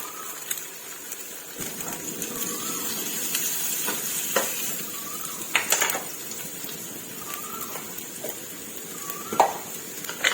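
Fresh shrimp sizzle and crackle in a hot greased wok while a utensil scrapes and stirs now and then, with a few faint bird chirps in the background.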